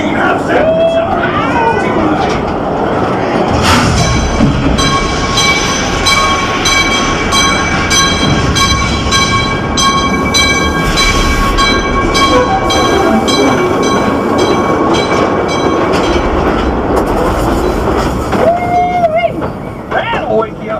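The Calico Mine Ride train at Knott's Berry Farm rumbles loudly along its track with steady clattering, wheel squeal and metallic ringing tones, under recorded narration voices throughout.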